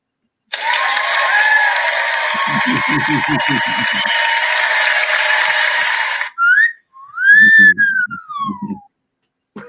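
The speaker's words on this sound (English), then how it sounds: "The whistle was for you." A whistle is blown at someone, sounding as a few sharp rising and falling blasts after a long stretch of loud, steady noise with voices underneath.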